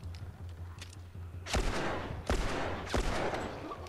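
Gunshots in The Last of Us video game: a few spaced, sharp shots cracking out over a low hum, three distinct reports with reverberant tails, moderately loud with no talking.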